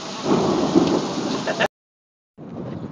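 A heavy thunderstorm: steady loud rain with a deep thunder rumble rolling underneath, cut off abruptly, then rain resumes more faintly after a brief gap.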